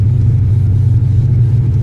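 Turbocharged Mustang engine idling just after a tuning change, a loud, close, steady low rumble with a slight fluttering pulse and no talking.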